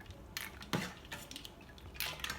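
Brown sugar bubble tea pearls stirred in a pot, a few soft scraping and clinking strokes of a utensil, quiet and close, with brief bursts of bright scraping between pauses.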